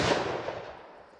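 A single sharp report from a Glock 29 pistol fires a full-power 10mm 180-grain load outdoors. The loud crack fades quickly into a short decaying echo.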